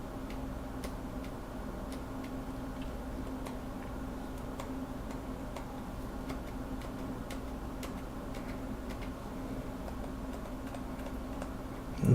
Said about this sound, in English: there's almost no noise now when the stabilizer tops out